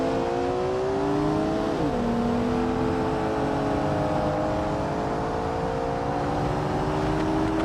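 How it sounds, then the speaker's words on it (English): BMW and Porsche engines roar in a BeamNG Drive chase, a steady loud drone with shifting harmonic pitch lines and a sharp drop near two seconds as one car shifts or lifts off. "the BMW chasing the Porsche"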